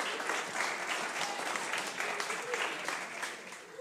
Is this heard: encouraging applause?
yes